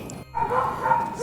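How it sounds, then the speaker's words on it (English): A dog barks steadily from somewhere near a house while Christmas lights are being clipped along the roof shingles, a continuous run of moderately loud yaps with no talking over it. "The dog's still barking."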